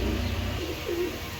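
A female racing pigeon gives a single short, soft coo close up, clear against a quiet background.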